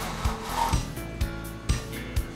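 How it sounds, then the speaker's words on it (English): A window blind is lowered after repairing its broken tilter, making a close, dry rubbing rattle. Soft clicks repeat about every half second as the slats slide down. "Lower the blind."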